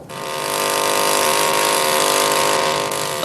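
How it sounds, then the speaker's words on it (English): A diamond drill coring into undisturbed lava rock, a loud, continuous whining motor drone held steady and close throughout, with no talk. "A diamond drill is used to obtain cores of lava."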